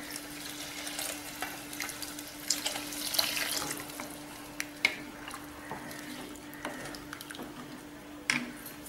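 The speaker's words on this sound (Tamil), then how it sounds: "இப்போ புளி கரைசல் தண்ணியை ஊற்றுவோம்." Tamarind water pours steadily into a pot of vatha kuzhambu, a continuous watery splash with faint clinks and a low hum in the background.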